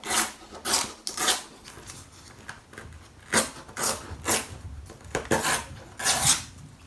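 Paper junk journal insert being trimmed to a straight edge, heard as a series of close, uneven scraping and cutting strokes with short pauses between them.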